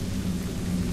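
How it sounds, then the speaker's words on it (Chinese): Low, steady thunder rumbles through a rainy night in a horror game on an island, a short continuous roll with no voices. "你还跟我打雷呀"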